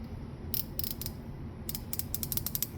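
A Capri Tools 3/8-inch mini torque wrench ratcheting in short bursts, crisp rapid clicks close up in two runs separated by a pause, no talking.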